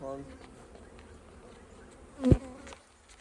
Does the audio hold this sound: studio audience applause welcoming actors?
no